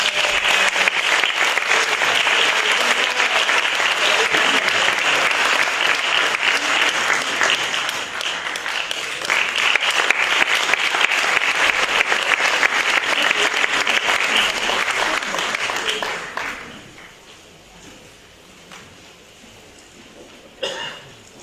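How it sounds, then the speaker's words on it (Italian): A concert audience at a choral festival applauds a choir. The loud, sustained clapping lasts about sixteen seconds, then fades out, leaving a quiet hall with scattered coughs and a brief late noise. "io farei ancora un applauso a questo splendido coro"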